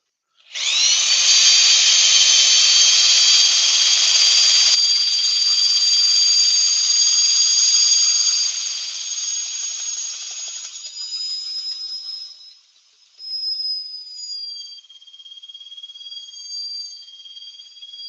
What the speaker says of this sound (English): right angle drill on this one.